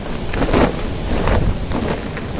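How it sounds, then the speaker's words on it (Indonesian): Wind blows through an Arabica coffee plantation in the windy season, a loud, steady rushing roar with gusty swells, buffeting close to the microphone without talk. "Ini musim angin sahabat ya."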